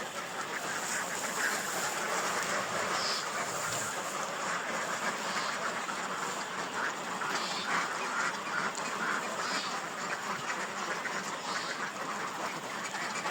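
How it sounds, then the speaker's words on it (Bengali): A crowd of native-breed ducks quacks on a duck farm, a dense continuous chorus of overlapping calls close by with no talk. "এগুলো হচ্ছে দেশি জাতের হাঁস"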